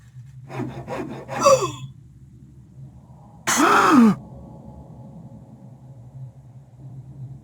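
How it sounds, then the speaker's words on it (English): Wood being sawed in a Nancy Drew video game, a few short rasping strokes at first, then a single louder, longer stroke after a pause, with a faint hum underneath and no speech. "someone is sawing"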